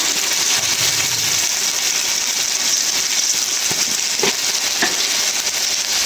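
Ginger, garlic and cumin paste frying with fish in a hot pan, a dense continuous sizzle close up with a few stirring knocks and scrapes, no talk over it.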